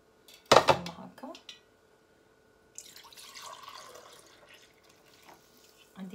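Water from a kitchen tap splashes briefly into a measuring glass for a chicken sauce, a sharp pour near the start followed later by a softer, longer trickle and rinsing.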